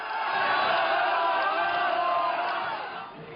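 A large protest crowd fills a road in Causeway Bay, Hong Kong, during a July 1 march, a dense, continuous roar of many voices with shouts rising out of it, fading slightly at the end.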